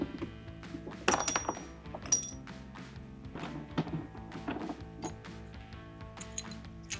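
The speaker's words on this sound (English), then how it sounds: "we can come down and remove the lower thumb screws next to the rear wheels" Thumb screws being removed from the lower rear of a KaiVac 1250 no-touch cleaning machine, giving close, irregular metallic clicks, taps and knocks with a few sharper clanks, heard alone without talk.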